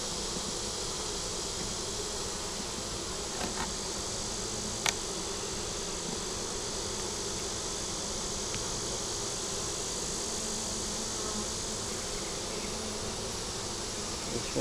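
Honeybees flying at the entrance of a hive as they bring in pollen, a dense continuous buzzing drone that stays even throughout, close and loud, with a couple of faint clicks and no talk.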